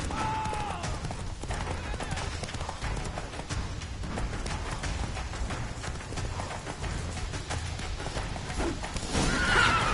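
Roach, a horse in the video game The Witcher 3: Wild Hunt, gallops with steady hoofbeats under game music and effects, and a whinny rises near the end.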